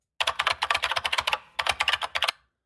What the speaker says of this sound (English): It's like they got the clickiest keyboard that they could possibly find.